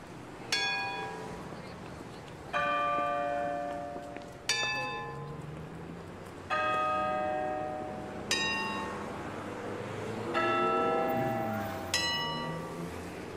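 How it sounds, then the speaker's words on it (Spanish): A bell in a Peppa Pig video game is struck six times at regular intervals of roughly two seconds, each bright harmonic strike decaying over background music and game sounds. "Has hecho un excelente trabajo haciendo sonar la campana."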